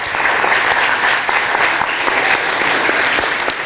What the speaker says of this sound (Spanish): Les voy a pedir que le demos un muy fuerte aplauso a nuestros 3 panelistas